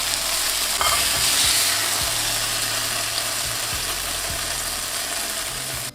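A Cheetos burger patty sizzles in a pan with melting cheese, a loud, close, steady hiss and crackle of frying that carries on without pause, with a few light scraping clicks underneath.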